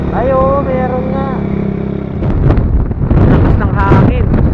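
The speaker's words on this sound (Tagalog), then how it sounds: "Lakas ng hangin." Strong wind gusting into the microphone outdoors at an elevated spot near Pantabangan, Nueva Ecija, loud rumbling buffets that build in the second half, with engine hum early and people talking.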